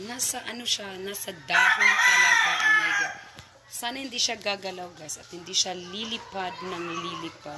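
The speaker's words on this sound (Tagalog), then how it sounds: "Yung ingay ng mga manok" Chickens cluck and a rooster crows nearby in a garden with plants, one loud crow standing out while someone talks over the fowl noise.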